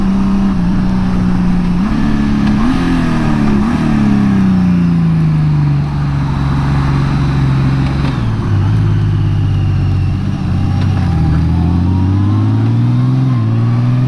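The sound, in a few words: motorcycle riding on the road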